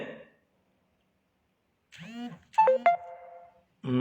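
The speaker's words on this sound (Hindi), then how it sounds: "ये आ रहा है मैसेज बार बार," A phone message notification tone sounding repeatedly, clear short electronic chimes in bursts separated by silence, with no talk over them.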